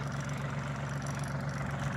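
A Kubota 220 tractor with a 22-horsepower engine runs steadily at idle during ploughing, giving a continuous low throbbing hum with no breaks or talk.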